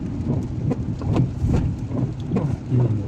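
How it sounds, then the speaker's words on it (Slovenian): Rain drums steadily on a moving car driving toward the centre of Koper in Slovenia, a dense patter with rhythmic swells under the road rumble and no voices. "namaka dež."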